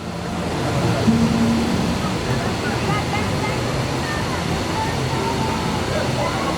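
Broad, steady rush of water pouring from the volcano feature at Volcano Bay water park, a constant roar close by with faint background noise and no talk.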